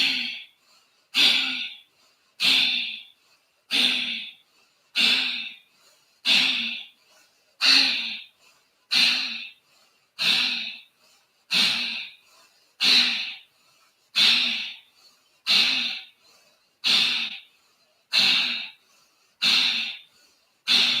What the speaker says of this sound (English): We're going to complete 3 rounds of Kapalbhati.